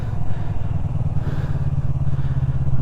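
A Yamaha MT03 motorcycle engine runs in a parking lot during wheelie practice, a loud, close, throbbing mid-range drone that swells slightly as the revs build, with no talk over it.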